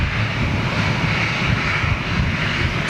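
An airliner in ex-Egypt Air livery at Manchester Airport roars steadily with a loud, broad engine rumble and hiss throughout, close and continuous, no voices.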